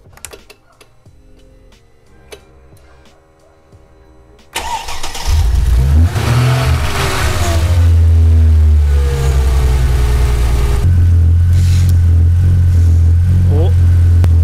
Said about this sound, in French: On va démarrer la bagnole et mettre le chauffage.